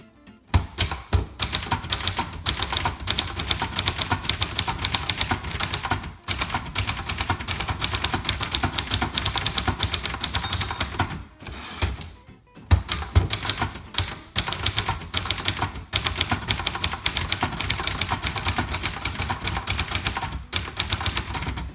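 Dense, rapid keystrokes from a 1978 Brother Charger 11 manual typewriter, close and loud, with steady clacking runs broken by brief pauses and an occasional carriage-return thump.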